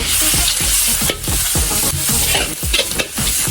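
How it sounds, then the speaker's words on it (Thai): Chili and garlic paste stir-fried in a pan, loud close sizzling with rapid rhythmic scraping and tossing strokes repeating every fraction of a second. "พริกลงไปผัดเลยครับ"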